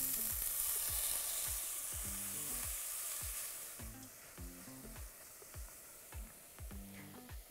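White spring onion parts, garlic and finely cut leek sauté in a pan for a creamy Hokkaido pumpkin risotto, a steady close hiss fading partway through, then rhythmic scraping stir strokes, with no talking.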